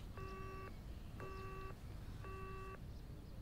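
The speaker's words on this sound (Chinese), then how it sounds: "现在大迪迪敢挂我电话这么快。" Three identical short electronic beeps of a phone call hanging up, evenly spaced about a second apart, clear and alone over a faint hiss.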